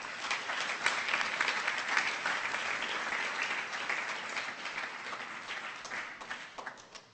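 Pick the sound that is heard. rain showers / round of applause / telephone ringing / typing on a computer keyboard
round of applause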